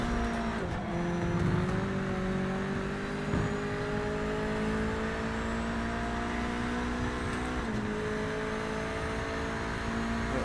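Race cars in Project Motor Racing with a steady engine drone that rises in pitch as a rival closes and pulls past, the whine dipping briefly near the end as he slips by.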